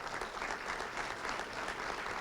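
Audience applause at a hall of fame and years of service ceremony, a steady, dense wash of many hands clapping together for the whole stretch, with no voices over it.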